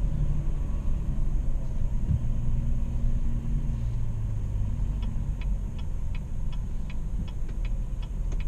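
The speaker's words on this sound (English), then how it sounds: "Buses." Manhattan traffic with buses gives a steady, close low rumble of engines. A regular ticking sounds in the second half, and nobody speaks.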